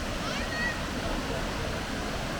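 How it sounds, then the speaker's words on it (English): A waterfall near Waterton Lakes, Alberta, gives a soft, steady rushing hiss from some distance, faint and unbroken. "So, there you have the waterfall."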